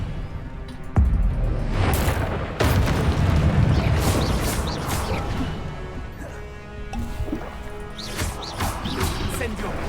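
Expelliarmus disarming spell cast in a Harry Potter video game: repeated sharp cracks and booming bursts over a continuous rumbling bed, with voices mixed in through the busy action.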